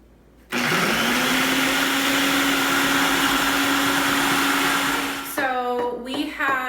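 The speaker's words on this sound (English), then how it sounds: "So we have food processed the ice cream." A food processor whirs steadily at high speed while blending dairy-free ice cream, a loud continuous motor drone lasting about five seconds before it stops and a voice begins talking.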